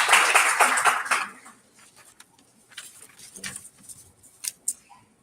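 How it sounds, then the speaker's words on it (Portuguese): An audience at a university law conference gives a burst of applause that fades within about a second, leaving a few scattered claps and faint room noise. "Aplausos."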